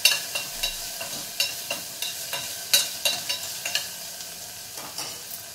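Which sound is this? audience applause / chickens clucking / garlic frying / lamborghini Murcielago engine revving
garlic frying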